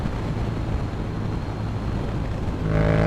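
A Yamaha MT-07 motorcycle engine pulls hard under opened throttle in fifth gear at highway speed, a steady low rumble mixed with wind roar that swells louder toward the end.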